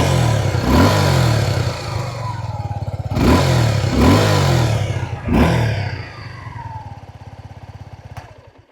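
A 2026 Suzuki V-Strom 250 motorcycle engine rumbles loudly up close, revving up several times in surges before settling back toward a steady idle.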